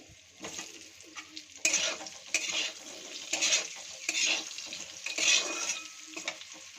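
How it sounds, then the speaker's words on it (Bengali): Potatoes and eggplant fry in oil in a pan, a continuous sizzle broken by repeated scraping strokes of a spatula stirring them, close and moderately loud with no talk. "আলু আর বেগুনটাকে একটু ফ্রাই করে নিচ্ছি, আলুটাকেও দিয়ে দিচ্ছি।"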